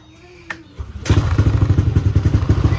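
An underbuilt show motorcycle with a loud exhaust starts with a thump and then runs at a steady, loud, throbbing idle close by.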